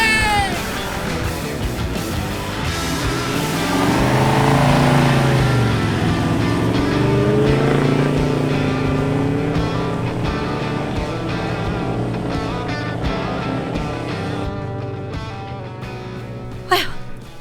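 A bogged 4x4 off-road vehicle in the Australian bush revs hard while clawing its way free, the engine pitch rising and falling over a long sustained effort before easing off, with a few voices calling out underneath.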